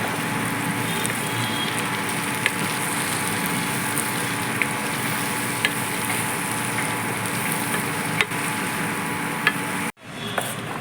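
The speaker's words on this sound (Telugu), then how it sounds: "దీన్ని బాగా మిక్స్ చేసుకుందాం." Broccoli and green peas rice stirred in a pan, a steady close sizzle with faint scraping and occasional soft clicks of the spoon, continuing evenly until an abrupt cut near the end.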